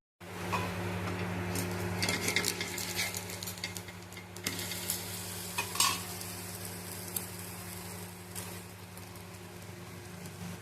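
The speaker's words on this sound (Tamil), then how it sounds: "கொஞ்சம் எண்ணெய் விட்டால் தான் அடையெல்லாம் ரோஸ்ட்டாக நல்லாயிருக்கும்" A rice and lentil adai pancake roasts in oil on a pan, a soft continuous sizzle with occasional light taps and scrapes over a low steady hum, no talking.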